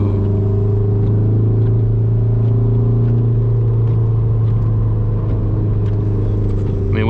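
A car on a wet Nürburgring lap gives a loud, steady in-cabin engine drone with strong low rumble and constant road noise, held flat out without a break.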